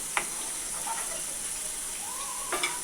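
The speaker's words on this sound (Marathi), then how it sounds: "छान कारले लाल लाल झाले छान फ्राय झाले आहे" Sliced bitter gourd (karela) sizzles steadily in oil in a pan, a constant close frying hiss with a few faint clinks and stirring scrapes.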